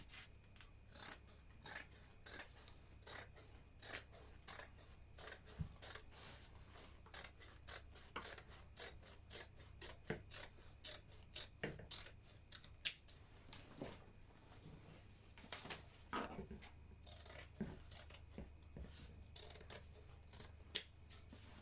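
Scissors snip steadily through fabric while a flared skirt pattern is cut out, a close, dry run of short crisp cuts repeating in an uneven rhythm with brief pauses, no voices.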